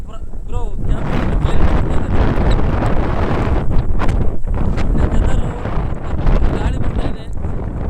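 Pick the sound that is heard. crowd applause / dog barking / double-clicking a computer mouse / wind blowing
wind blowing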